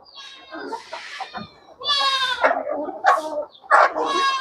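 Goats bleat several times in short, wavering calls at close range, with a few quieter rustles and animal sounds between them.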